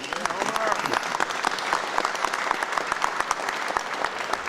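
Audience applause at a press conference, a sustained burst of dense clapping from a room of people, with a voice faintly mixed in.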